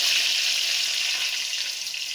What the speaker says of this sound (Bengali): তেলটা গরম হয়ে গেছে, দিয়ে দেবো এই যে লবণ দিয়ে দিলাম, দিয়ে দেবো যে সেদ্ধ করা আলু